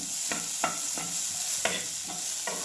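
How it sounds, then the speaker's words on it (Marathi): Chopped onion frying in hot oil while stirred, a soft steady sizzle broken by several distinct scraping strokes of a spatula at a slow, even rhythm. "बघा छान कांदा भाजूया"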